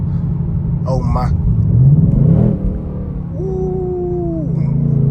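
A 2025 Ford Mustang GT engine rumbles and pulls hard under acceleration, a loud, deep, close drone that swells and then eases, with a person exclaiming in between.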